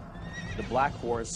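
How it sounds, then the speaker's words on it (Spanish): A black horse whinnies loudly in two rising, quavering bursts at close range over a low rumbling background, with a voice faintly present. "Y vi aparecer un caballo negro, cuyo jinete tenía una balanza en la mano."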